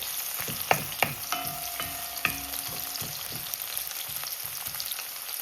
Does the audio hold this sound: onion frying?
yes